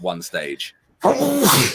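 A single loud sneeze bursts out near the mic after a short pause, following someone talking briefly on a live radio-style show.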